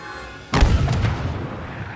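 A single sharp gunshot in Star Wars Battlefront 2 booms out, followed by a short rumbling tail.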